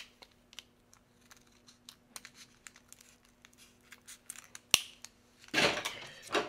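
Scissors working through plastic-in-plastic packaging on battery packs: faint scattered snips and ticks, then a sharp click and a louder burst of crinkling plastic near the end, close by, with no talking.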